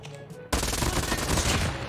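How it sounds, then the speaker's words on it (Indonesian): Rapid automatic fire from a MAC-10 submachine gun in a video game, a dense continuous burst starting abruptly after a short quiet moment and staying loud to the end. "Saya suka fire rate-nya kencang sekali"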